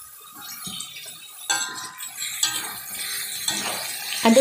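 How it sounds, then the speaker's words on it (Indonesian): A spoon stirring and turning pieces of beef skin (kikil) coated in spices in a pan: soft metallic scrapes and wet shuffling, with occasional louder clinks, close up. "Aduk-aduk atau dibolak-balik agar bumbunya ini boleh melumuri semua kikil yang sudah kita masukin ini ya"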